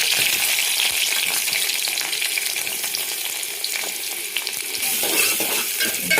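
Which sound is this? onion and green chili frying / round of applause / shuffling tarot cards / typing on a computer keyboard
onion and green chili frying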